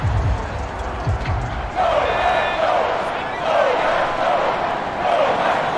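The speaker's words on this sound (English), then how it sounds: "Crowd is very loud." Loud, continuous roar of a stadium crowd in the football video game Madden 22, swelling in waves with a chanting rise partway through, alongside game audio.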